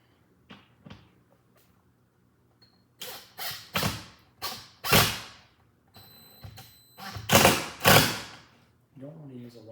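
Parts of a white inset Mapleville cabinet being bolted together make a series of sharp creaks, thumps and clacks in uneven bursts, close by in a quiet room.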